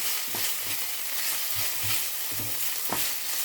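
Broccoli and carrots frying in a hot pan, a steady close sizzle with soft scraping stir strokes repeating every half second or so.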